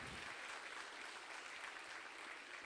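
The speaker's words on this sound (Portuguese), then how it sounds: "Pode aplaudir o Senhor e dar um glória a Deus." A church congregation applauds during a sermon, a steady wash of clapping that holds even and unbroken from start to finish, heard from some distance at low level.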